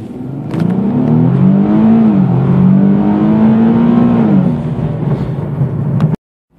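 A Nissan 370Z engine revs hard as the car accelerates, rising in pitch and then dropping back before cutting off abruptly. It is loud and close, with no talking.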